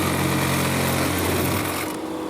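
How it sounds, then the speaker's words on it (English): A tractor-driven flail mower runs at a steady, loud roar, its blades striking a hidden metal stake in a brief rattling clatter before the engine noise eases off. "That was a metal stake that the flail mower hit."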